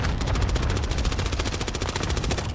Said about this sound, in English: I'm getting shot from behind.